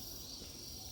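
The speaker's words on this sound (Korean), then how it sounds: "매미 소리 들리시죠?" Steady high-pitched buzzing drone of cicadas beside a cemetery, continuous and even throughout, with no voices.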